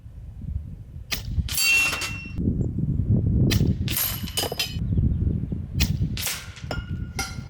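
.30 caliber rifle shots at 66 yards, several sharp cracks spaced a second or two apart, each followed by impact and ringing, over a steady low outdoor rumble.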